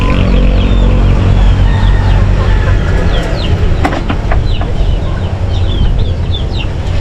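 Rhode Island chickens in a backyard farm cluck and chatter close by in a steady, busy flock, with sharp clucks scattered over a low background rumble.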